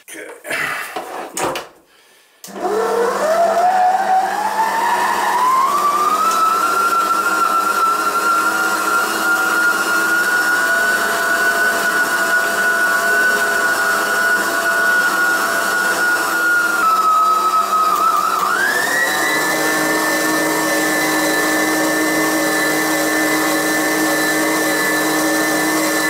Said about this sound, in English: I'm going to do that in the kitchen mixer